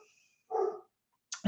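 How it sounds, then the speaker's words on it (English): A pet dog barks in the background indoors, one short muffled bark followed a moment later by another brief, sharper bark, with quiet gaps between them and no speech. "You might be able to hear my dog barking his full head off in the background."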